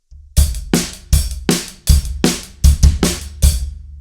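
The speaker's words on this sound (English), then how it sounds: "for the chorus, you can just play it with your closed hi-hat," Drum kit groove for a song's chorus played on a closed hi-hat with kick and snare, a tight, clipped pattern of about a dozen crisp hits, close and loud with no talking.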